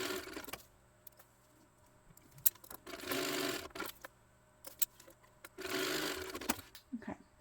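Sewing machine stitching a thin vinyl strap for a tote bag, heard in two sustained runs of whirring stitches separated by quieter handling clicks and taps.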